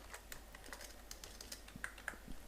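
Someone types code on a computer keyboard in a steady run of light, quiet key clicks with a few louder taps, no voice heard.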